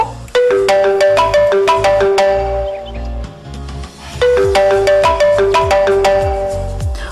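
A telephone ringtone plays for an incoming call during a secondary-school radio lesson, a loud repeating melodic tone pattern in two bursts, with no voices over it.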